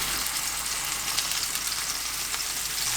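Cod fillet pan-frying in three to four tablespoons of cooking oil over medium-low heat, giving a steady, close, even sizzle with fine crackling throughout and no voices.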